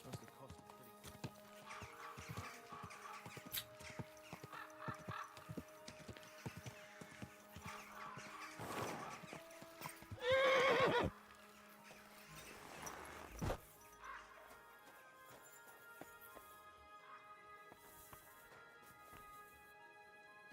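In the video game Kingdom Come: Deliverance 2, a horse's hooves clop at a walking pace under quiet game music, broken midway by a loud burst of neighing before the hoofbeats carry on.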